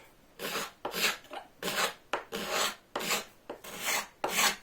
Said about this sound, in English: So what I'm gonna do is just kind of angle my scraper.